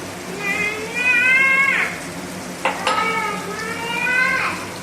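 Garlic sizzles as it sautés in a pan for vadhrelo rotlo, a steady frying hiss with a stirring clatter midway and a cat meowing repeatedly over the top.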